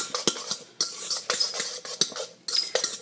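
A spoon stirs cauliflower pizza crust ingredients in a bowl, giving close, irregular clinks and scrapes against the sides in quick bursts, with no talking.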